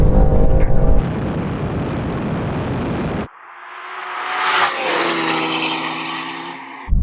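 BMW M2 cars accelerating hard in a drag race, a loud roaring engine and wind rush up close, then a cut to a revving engine climbing through gears.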